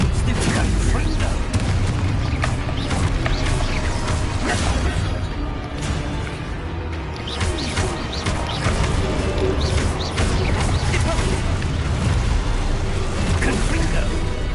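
Fire-blast spell explosions in the Hogwarts Legacy video game boom again and again at close range, dense and loud throughout, with crashing impacts and game voices shouting over the blasts.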